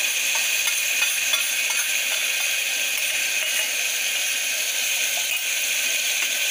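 Onion, tomato and a ground coconut-onion masala fry in oil for moong masala rice, giving a steady, close hiss of sizzling with faint stirring ticks and scrapes throughout, no voices.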